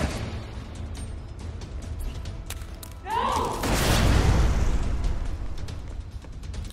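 Grenade blasts in the Tales from the Borderlands video game, a sudden loud burst that swells into a roaring, rumbling wash and lingers beneath a steady background din.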